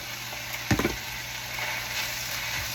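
Vegetables for spring roll filling stir-fry in a pan with a steady close sizzle, broken by a brief cluster of scraping stirring knocks.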